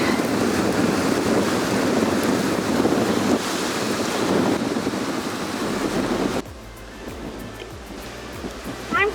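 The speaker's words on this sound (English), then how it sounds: "it is so windy" Strong wind blasts across a mountain pass on a hiking trail in Taiwan, roaring loudly against the microphone for about six seconds before dropping to lighter gusts and faint rustling.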